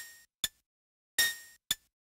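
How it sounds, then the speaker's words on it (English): Three short analog cowbell hits from a Behringer CAT synthesizer, bright and metallic, with a longer ringing strike in the middle between two clipped ones, alone with silence between. "and then some cowbells."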